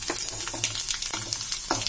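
Fennel seeds crackle and sizzle in hot oil for kaara poli, with light stirring clicks, steady and close with no speech.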